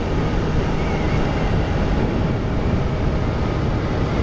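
A stock-exhausted 2023 Kawasaki ZX-4RR motorcycle being ridden, with a loud, steady, dense engine and wind roar sustained throughout and no talk over it.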